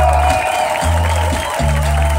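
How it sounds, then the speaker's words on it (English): A concert crowd at La Maroquinerie in Paris applauds the band, a loud, continuous spread of clapping heard close and full, with a sustained musical drone running underneath. "So I'd like a round of applause for all the players on stage tonight."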